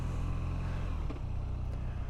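A BMW R nineT 100 Years Edition motorcycle, a 2023 model, pulls away with a steady low engine drone that shifts in pitch midway, loud and close with no talking.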